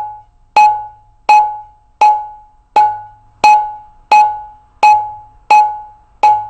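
A steady run of nine ta strokes on the dayan side of a mridanga drum, each a crisp, high-pitched ringing hit with a short decay, played alone at an even pace.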